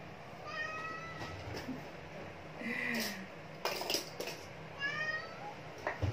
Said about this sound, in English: you hear that, my cat's crying?